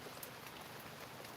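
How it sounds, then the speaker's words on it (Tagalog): Heavy rain pours on a mountainside, a dense steady hiss of drops on surfaces with no voices, even and constant throughout. "Hala, ang lakas ng ulan."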